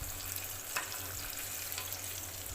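Chandan kabab sizzles in a frying pan, a constant crackling fry broken by a brief clatter as the pieces are flipped partway through.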